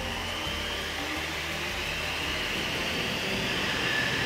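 A large wind tunnel fan in a flow physics facility runs with a steady, loud, broadband roar and airy rush that holds constant throughout.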